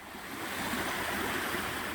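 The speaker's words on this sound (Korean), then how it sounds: "위에서 2번 꺾여 내려오는 폭포는 규모가 작지 않고 이렇게 모인 물은 깎아지른 바위 비탈면을 타고 산 아래까지 흘러내려갑니다" A sizeable waterfall pours in two tiers down a steep rocky cliff slope on a mountain trail, making a steady, dense rushing roar with no voices.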